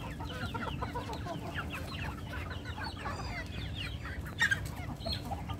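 Free-ranging chickens and ducks released outdoors, a flock clucking and chattering in overlapping bursts, fairly close, with a brief louder squawk near the end and a low steady hum underneath.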